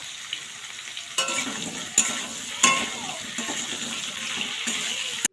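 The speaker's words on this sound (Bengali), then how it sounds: "আমটা একটু ভেজে নেব যাতে করে আমের ভেতরে যদি কোনো রকম জল থাকে সেটা সম্পূর্ণ টেনে নেবে" Mango pieces with salt and turmeric fry in a spiced tempering for pickle, giving a steady close sizzle with sharp stirring scrapes and clinks at intervals, no talk heard.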